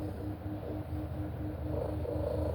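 A cat's low, rumbling purr mixed with a steady 174 Hz binaural beat tone, continuous and even throughout, quiet and close with no talking.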